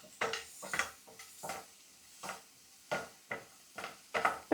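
Green peas being stirred in ghee in a pan for a packed lunch, with a spoon scraping and clinking against the pan in about eight separate close strokes and faint sizzling between them.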